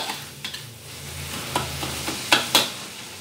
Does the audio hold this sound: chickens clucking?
no